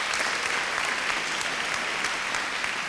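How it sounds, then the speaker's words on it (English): Steady, dense applause from a live studio audience at the Cosmopolitan during a Vocal Fusion Season 5 singing competition show, loud and even throughout with no speech. "Round of applause, please, for the Cosmopolitan."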